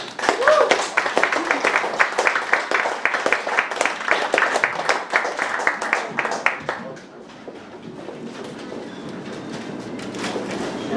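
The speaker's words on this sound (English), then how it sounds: "Give a round of applause." At a live music gig at T.Chances, a crowd claps in dense, loud applause for about seven seconds, then it thins out into quieter room noise.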